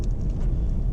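A car rolls along gravel Oregon State Highway 27, a steady low rumble of tires and engine, close and continuous with no voices.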